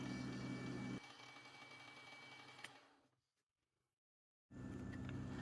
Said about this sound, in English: Here I'm using a carbide 3/8 inch end mill to cut the hole at the bottom